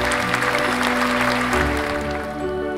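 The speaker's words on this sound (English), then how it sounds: "a big round of applause for my wonderful elephant." Steady applause from a crowd filling the whole stretch, with a sustained tonal background underneath.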